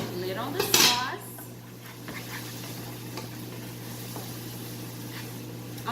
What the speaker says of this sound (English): Lid on the sauce.